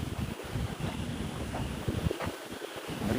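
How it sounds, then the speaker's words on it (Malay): Strong wind blows hard at an outdoor spot among trees, a loud, continuous buffeting rush with gusty thumps hitting the microphone throughout. "Angin tu berangin sah. Tempat dia berangin gila."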